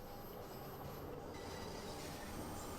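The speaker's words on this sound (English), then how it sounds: "Oh, I hear some squealing flanges, so I'm assuming another train is passing alongside us in the other tunnel." Train wheel flanges squeal on a London Underground Bakerloo Line train in a tunnel in Train Sim World 2, a thin high whine over a steady loud rolling rumble, with no talk.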